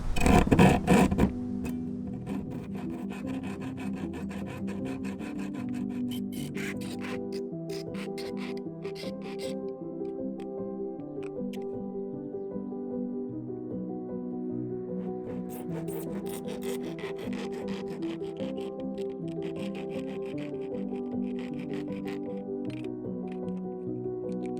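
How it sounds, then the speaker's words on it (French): Hand hacksaw cutting through a camper van's wall panel around a window opening, steady rasping back-and-forth strokes close by, opening with a louder burst and continuing evenly without talk. "Je vais y aller à la scie,"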